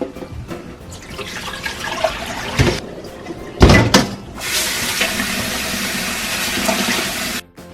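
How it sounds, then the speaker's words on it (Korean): Tap water runs loudly into a sink as blanched fatsia shoots are rinsed, with splashing and handling noises giving way to a steady, close gush that stops abruptly at the end. "두세 번 정도 씻어서 열기를 빼주시면 된답니다"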